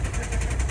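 A Subaru WRX engine that later failed runs steadily at a track, a rough low rumble with a faint ticking knock and possible piston slap, close and continuous with no talk.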